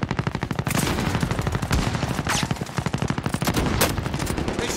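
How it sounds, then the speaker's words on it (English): Rapid automatic gunfire in a video game battle royale match, dense and continuous, with loud overlapping bursts of shots that fill the whole stretch. "They shoot me!"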